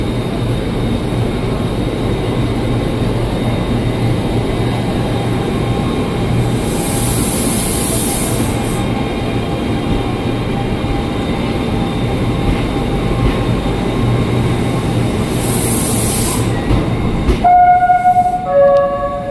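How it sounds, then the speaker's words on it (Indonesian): An INKA electric commuter train departing Jakarta Kota station rumbles steadily and loudly throughout, with a high whining tone at moments, then an electronic chime-like tone near the end. "kita tunggu sampai KRL-nya berangkat dari jalur 10 stasiun Jakarta Kota"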